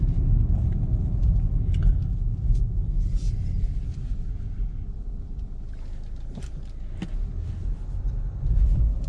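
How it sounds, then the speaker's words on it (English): A BMW G20 3 Series pulls away under launch control, a deep sustained engine rumble heard from inside the cabin with a few faint clicks and knocks over it. "Well, it certainly launched the car."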